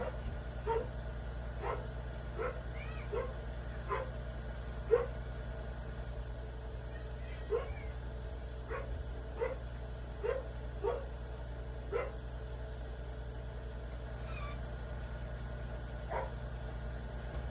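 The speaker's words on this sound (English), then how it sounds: "The dogs are going crazy." Several dogs bark in short sharp bursts, some distance off, spaced out in a loose irregular rhythm over a low steady hum, with a few higher yips mixed in.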